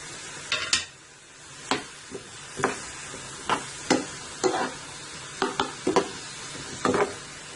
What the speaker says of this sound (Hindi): इसमें गाजर डाल देते हैं और इसको भी तकरीबन 2 से 3 मिनट तक फ्राई करेंगे।